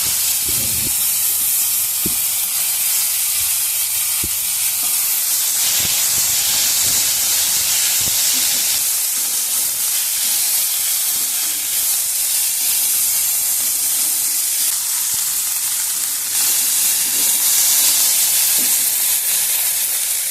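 Tomatoes dropped into a hot pan while cooking puffed rice upma, giving a loud, steady sizzle and hiss with occasional soft stirring knocks, close and continuous without talk.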